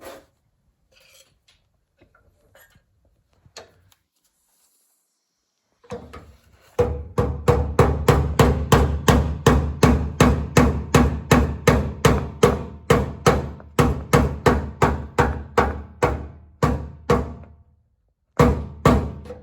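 A hammer taps a part into place on the underside of a vehicle during a ramp installation, about two dozen rapid, evenly spaced metallic knocks in a steady close rhythm after a quiet start, then a final short burst.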